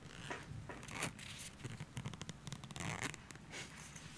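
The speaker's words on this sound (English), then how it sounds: "basically what you do here is you pull the zipper" A zipper is pulled open on a small, sleek carrying case for Bose MIE2i earphones, giving a close, quiet run of rasping scratches and short tugs, with no voices.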